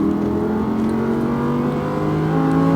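An Audi R8 engine drones steadily at high revs on a race track, pitch slowly climbing as it accelerates, continuous and fairly close, with no voices.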